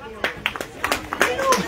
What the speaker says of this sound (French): On applaudit Anne-Paul.